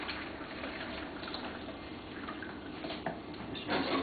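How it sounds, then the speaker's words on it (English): Homemade fish head and frame stock poured through a strainer with tongs, a soft continuous trickle and splash of liquid with faint clinks, quiet and close. "So I'm going to strain the fish stock through the strainer"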